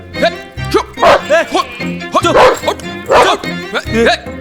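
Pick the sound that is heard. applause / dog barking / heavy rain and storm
dog barking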